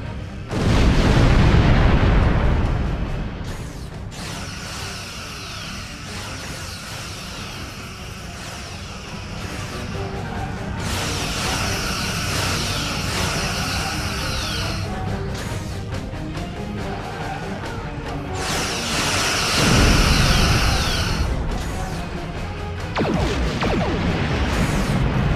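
Space combat in Star Trek Online, with loud booming explosions and bursts of phaser and photon torpedo fire rolling over a dense electronic backdrop, heaviest at the opening and again near the twenty-second mark.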